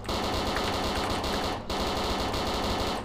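Rapid automatic gunfire rattles in DayZ, a dense continuous burst of shots with one brief pause, loud and close, no voices.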